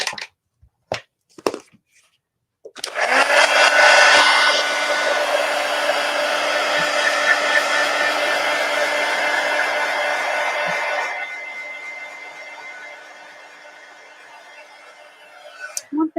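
A hair dryer blows steadily on a fresh animal painting, a loud close whir lasting over ten seconds before dropping in intensity and trailing off; brief sounds come before it starts.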